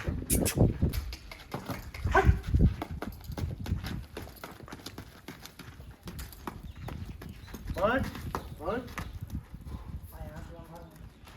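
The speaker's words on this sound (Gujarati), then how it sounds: "વાહ ઘોડો" Horse hooves clip-clop in an uneven rhythm during a slow training session on the horse's third day, mixed with people talking nearby over the steps.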